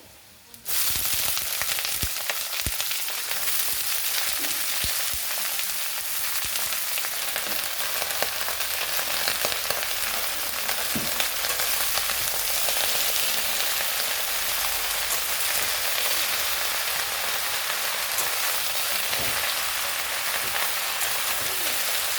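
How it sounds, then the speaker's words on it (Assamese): Taro stolons with fried onion stir-fried in hot oil in a pan, turned with a spatula: a loud, continuous close sizzle that starts abruptly and runs throughout, with occasional scrapes of the spatula. "আৰু কচুখিনি এতিয়া মই খন্তিৰে অলপ পালট কৰি দিছোঁ।"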